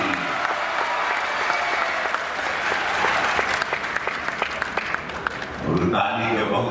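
A crowd at a public gathering with religious and political leaders breaks into thunderous, sustained applause, loud and dense, with a voice speaking over the clapping toward the end.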